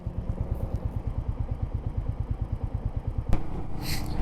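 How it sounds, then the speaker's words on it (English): A Royal Enfield Meteor 350 motorcycle climbs a hill with a steady, rhythmic single-cylinder thump, close and loud, with a brief knock partway through and wind rush building at the end. "So let's just see how this bike pulls up this hill here"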